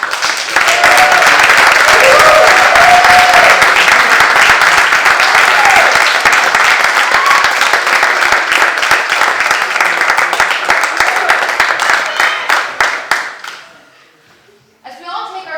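An audience at a youth court graduation in Putnam County, New York, claps loudly and steadily for the new graduates. Dense applause fills the room for about thirteen seconds, then thins out and fades to near silence near the end.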